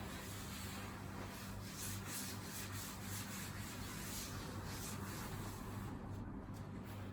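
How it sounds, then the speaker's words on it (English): Hand-scrubbing an Amtico floor on hands and knees, a continuous faint rubbing and scouring with rhythmic back-and-forth strokes over a low steady hum, no voices. "you can get a bit wet if you're scrubbing the floor, you're on your hands and knees"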